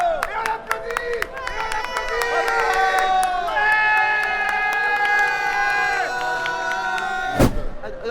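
A lively live crowd at a festival show's finale cheers a prize winner with loud whoops and sustained shouted voices over scattered claps, close and boisterous, ending with a sharp bang.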